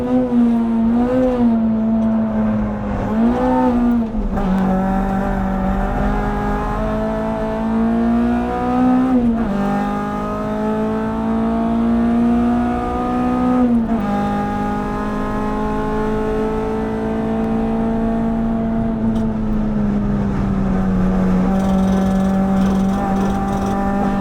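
A K24-swapped Honda Civic EP3 Type R races hard around the Nürburgring, its engine note loud and close, climbing through revs with quick downshifts and brief lifts between sustained high-rpm pulls.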